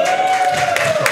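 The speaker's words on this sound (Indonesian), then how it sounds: "sebelumnya kita tepuk tangan dulu dong buat Massive Thunder" An audience at a KPI evening show applauds for Massive Thunder, a short burst of clapping and crowd noise mixed with a sustained tone and some cheering.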